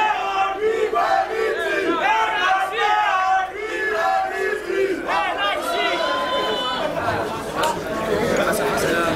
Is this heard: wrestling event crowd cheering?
yes